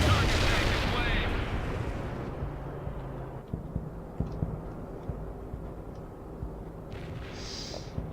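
Mortar fire in the World in Conflict strategy game during a battle for a fort: a heavy boom rolls off and decays at the start, followed by scattered distant thumps and pops of gunfire over a low battlefield rumble.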